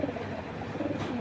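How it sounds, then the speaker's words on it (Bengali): Khoira-gola (brown-necked) pigeons, a male and female pair of tota-shaped crested birds, give soft, low cooing calls close by against a steady background hum. "এগুলো নারায়ণগঞ্জ ক্লাবের কবুতর"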